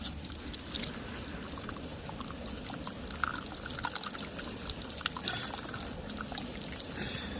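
Melted beeswax pours steadily into water with a continuous bubbling, splashing rush, close and fairly loud throughout, outdoors in the wild.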